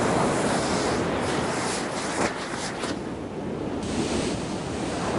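Ocean surf where lava flows into the sea roars steadily, with wind buffeting the microphone in a continuous loud wash that dips briefly and returns.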